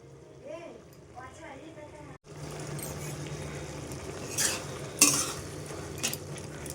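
Ridge gourd and prawns being stirred in a pan over a high flame, with a steady frying hiss and occasional sharp clinks of a utensil against the pan; a voice speaks briefly at the start.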